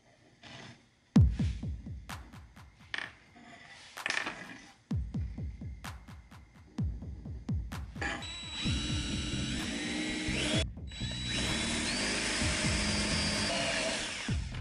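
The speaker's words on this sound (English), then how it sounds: "I'm gonna go ahead and just drill that hole" A power drill whirring in short bursts that spin up and down, then a long, steady high-pitched run as it bores through, close by.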